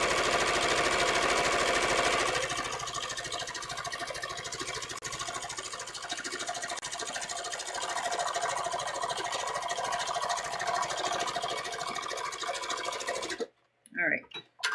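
A sewing machine runs steadily while stitching up the side seam of a swimsuit, a fast continuous mechanical whir that ends abruptly, followed by a few brief handling sounds.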